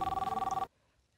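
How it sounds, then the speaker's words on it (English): An electronic telephone bell rings in a film scene, a rapid pulsing trill of about a dozen beats lasting just over half a second before cutting off abruptly into near silence. "Dude, you better answer the phone."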